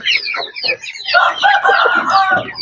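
Chickens on a backyard poultry farm cluck and squawk loudly and close by, several birds calling over one another in quick overlapping bursts.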